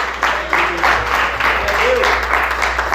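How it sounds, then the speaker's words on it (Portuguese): Church congregation applauding during a sermon at a meeting of workers and pastors, a steady wash of many hands clapping in pulsing waves, with faint voices and cheers mixed in throughout. "Você pode aplaudir o Senhor, queridos?"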